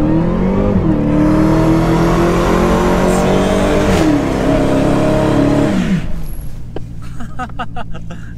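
A Dodge Challenger Hellcat with a 707 hp engine revs hard and accelerates in loud rising pulls, shifting between gears before the engine note drops off sharply. The roar comes from close by, and a voice is heard briefly near the end.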